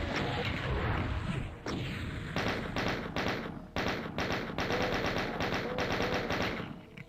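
Rapid machine-gun fire from a chaingunner in the video game Doom, loud and continuous bursts with short breaks, mixed with heavy game thuds and explosions.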